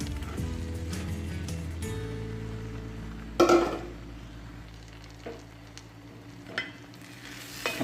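Salted chopped mango is tipped into mustard pickle masala in a hot pan and stirred, with soft sizzling and a low hum. A clatter of pieces landing is followed by a few scattered scrapes of the spoon.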